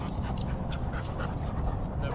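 A dog pants and whimpers close by while people talk and greet each other over it, the excited breathing and soft whines running continuously through the brief moment.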